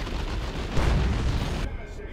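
A looted tank firing in the Dawn of War 2: Retribution video game gives a heavy, close cannon-like boom amid ongoing battle noise, with a loud thump near the middle of the short burst and a voice commentating underneath.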